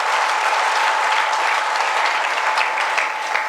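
A crowd at a provincial youth wing gathering in Bihar claps for children, producing dense, continuous applause that stays loud and even from start to finish with no voices over it.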